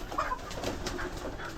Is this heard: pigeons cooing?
yes